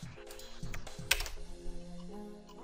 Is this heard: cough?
no